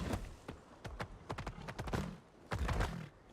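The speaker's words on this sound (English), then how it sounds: "we are just galloping super full speed here" Horse galloping at full speed in a pirate video game, a rapid run of hoofbeats in quick bursts, close and fairly loud over game ambience.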